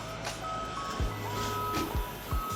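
A skid steer on a construction site gives out a steady electronic reversing beep, a clear tone repeating at moderate distance, with a low engine rumble and scattered thumps beneath it.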